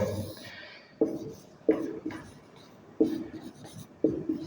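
Pen or marker writing out a maths statement during a number-system lesson: a few distinct tapping strokes and scratchy bursts spaced about a second apart, close and fairly loud, with no talking.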